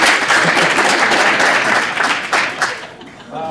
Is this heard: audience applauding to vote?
yes